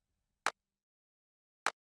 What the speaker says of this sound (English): And a loose clap.